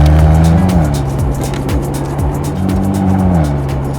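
A 2022 Bentley Continental GT Speed drives hard, its engine loud and close with rising revs and quick gear shifts, plus a hint of tire noise, and no voices over it.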